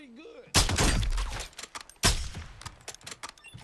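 Two loud, close sniper rifle shots from a KAR98K in Warzone, each a sharp blast with a long rumbling tail, about a second and a half apart, followed by faint clicks and game noise.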